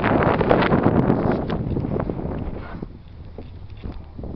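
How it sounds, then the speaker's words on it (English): Wind buffets an outdoor microphone in steady broadband gusts beside a Commodore car, strongest at first and easing to a lower rumble over the last seconds, with no speech. "It's a bit windy today"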